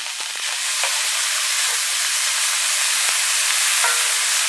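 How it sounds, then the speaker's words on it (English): Strips of bacon sizzle and pop in a hot pan, a steady broadband hiss with scattered sharp crackles, close and fairly loud, with no voices. "Get my bacon up in there, y'all. Let's go. Let's get this bacon popping."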